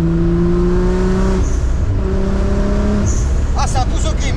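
Scania V8 truck engine revving through a custom exhaust line, two steady throbbing engine tones rising and holding, loud and close, with a brief squeal near the end.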